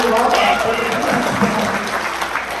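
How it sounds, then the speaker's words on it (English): A comic con crowd at a wrestling panel breaks into applause, a broad roar of clapping with voices and whoops mixed into the steady din. "Give her a round of applause for that."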